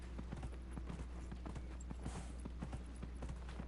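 Horse hooves clip-clop steadily in Dragon Age Inquisition on PS4, a regular rhythm of fairly soft, close footfalls over a constant low game hum, with no talking.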